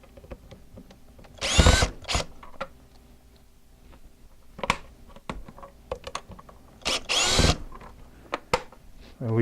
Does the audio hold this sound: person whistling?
no